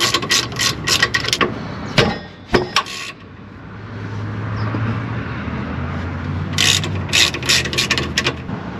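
Bursts of rapid ratchet clicking, close and loud, as pin bolts come off the brake caliper of a 2004 Toyota 4-Runner, with a quieter stretch of low mechanical hum and traffic between the bursts.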